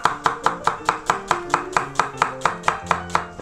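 Quick, steady knife chopping through a large onion on a cutting board, about four crisp strikes per second, close and loud with no talking.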